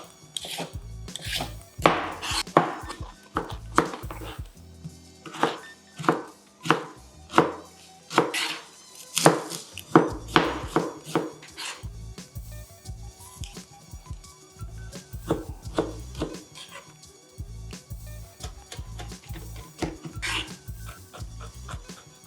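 Knife chopping aromatics on a cutting board, a series of sharp, close, irregular taps and thuds with pauses between bursts, alone without talk; a dog's faint whine seems to surface briefly.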